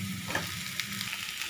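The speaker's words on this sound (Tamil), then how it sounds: "நல்லா மிக்ஸ் பண்ணிக்கோங்க." Grated boiled potato is mixed in a hot pan, making a brief, close sizzle with a few soft scraping strokes from the spoon.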